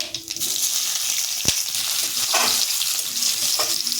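Chopped onions sizzle and crackle in hot oil in a kadai, with bay leaf, garam masala and white cumin, while cooking Kabuli chickpea curry. The frying hiss is steady and close, with a few sharp pops and stirring scrapes.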